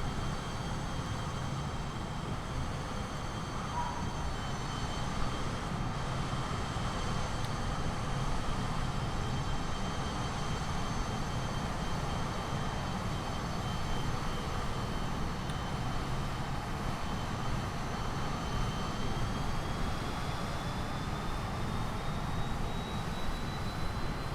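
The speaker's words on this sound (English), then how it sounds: "Got a little jet there. Executive jet taking off ahead of us, I guess." In a Microsoft Flight Simulator scene with a Cirrus aircraft holding short of the runway, an executive jet takes off ahead, heard as a steady, loud, unbroken jet-engine roar and whine that persists throughout without any voices.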